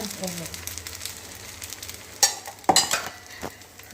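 Bottle gourd dosa cooking on a hot pan, a steady low sizzle with a few sharp scraping clicks from a utensil near the end.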